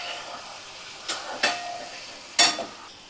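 Mushroom curry with ground spices and garam masala fries in a pan, a soft background sizzle broken by three sharp scraping stirs near the listener.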